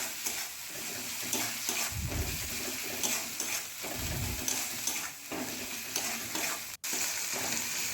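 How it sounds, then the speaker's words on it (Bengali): Spices with salt, turmeric and chili powder stir-fried in a pan, giving a steady sizzle with a few scraping stirs of the spatula and a brief sharp dropout near the end; no speech. "এবার মশলাগুলোকে ভালো করে কিছুক্ষণ ধরে কষিয়ে নিচ্ছি।"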